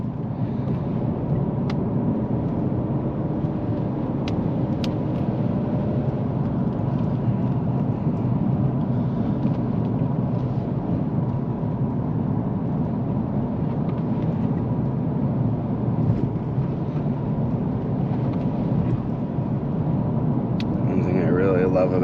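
A Ford Fusion Sport with the 2.7 engine drives in sport mode on a rainy road, its steady low engine and road rumble filling the cabin continuously while a person talks over it.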